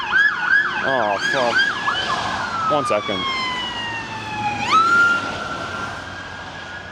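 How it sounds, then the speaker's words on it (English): An ambulance siren passes outside, its rapid yelp sweeping up and down before settling into a long falling wail that jumps back up near the end, loud and then easing, with someone briefly talking over it. "I'm sorry for the ambulance noise."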